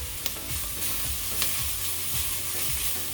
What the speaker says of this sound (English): I saute the garlic.